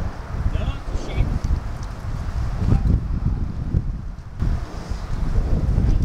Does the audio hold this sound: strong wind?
yes